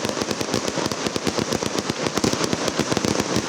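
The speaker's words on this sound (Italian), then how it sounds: "È l'1:40 di notte quando inizia lo spettacolo dei fuochi d'artificio in piazza Palestro." Fireworks burst in rapid, overlapping volleys over a town square at night, Piazza Palestro in Sicily during a religious festival after rain: dense, loud crackling and booming bangs that fill the scene continuously without pause.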